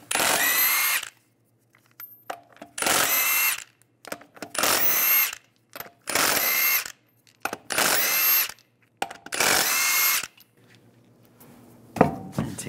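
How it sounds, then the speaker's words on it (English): Power tool with a 22 mm socket removing lug nuts from a 2007-2013 Chevy Silverado 1500 wheel: six loud, close bursts of impact-driver whirring, each about a second long, separated by quiet pauses and faint clinks. "Using a 22 millimeter socket, take the lug nuts off."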